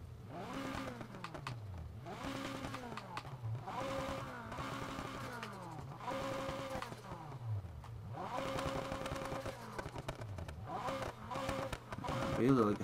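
Mazda RX-7 rotary engine in Need for Speed Heat revving repeatedly, each rev rising sharply then falling back in a steady rhythm of about a dozen bursts, moderately loud and close, with no talk over it.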